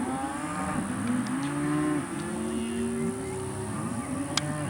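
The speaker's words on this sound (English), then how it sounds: "we'll go ahead and leave the moo cows" Cows low in long, drawn-out moos, one after another and some overlapping, heard from a passing bicycle on a spring group ride with steady wind and road noise.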